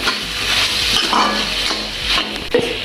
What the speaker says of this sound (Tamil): இப்போ நல்லா கிளறுவோம்